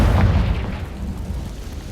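A Confringo blasting spell explodes in Hogwarts Legacy, a deep, loud boom with a rumbling tail that stays heavy and gradually fades over about two seconds, with no voices.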